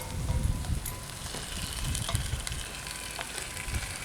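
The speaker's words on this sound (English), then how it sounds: "we're just gonna let that sear for a few minutes" Beef sears in a Dutch oven for stew, giving a steady, moderately quiet sizzle and crackle with soft low rumbling and no talking.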